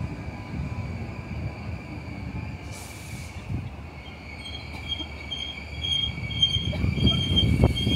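A DART commuter train pulls away from Grand Canal Dock station in Dublin, its low rumble and wheel noise building steadily toward the end, with a faint high squeal riding above.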